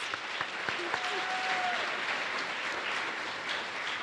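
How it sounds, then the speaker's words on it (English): A pageant audience claps steadily in an even wash of applause, with faint voices mixed in underneath. "Let's give them one more big round of applause"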